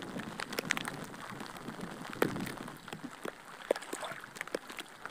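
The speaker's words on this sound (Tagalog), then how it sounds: "Malakas, so malakas na yung ulan guys." Heavy rain patters on a surface on Burias Island, with scattered sharper drops tapping nearby throughout.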